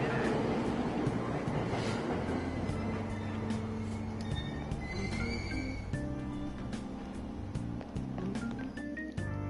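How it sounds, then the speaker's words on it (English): A subway train departs in the video game Persona 5, with a steady loud rumble, layered mechanical hums and brief tonal chimes running continuously throughout. "Train doors are now closing. Please stand back."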